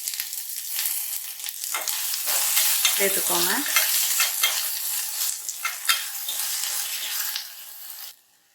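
Coriander and mint leaves sizzle and fry in a pan with ginger-garlic paste for Muslim-style pulao, stirred steadily with scraping spoon strokes throughout, a loud continuous crackle that fades out at the end.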